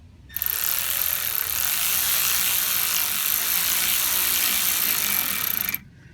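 Ratchet tightening water pump bolts on a BMW 535i: a continuous, fast, loud clicking burr lasting about five seconds, close up and without speech.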